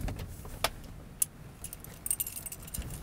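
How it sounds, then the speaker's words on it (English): Keys jangle in short bright bursts beside the ignition of a Chevy Tahoe from the 2007–2014 years as the engine is switched off, fairly close and quiet with scattered clinks. "Maybe turn off the car."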